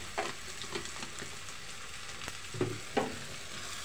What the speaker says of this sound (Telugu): వేయించుకుందాం.